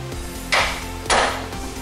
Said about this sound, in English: Hit it right here on that cast iron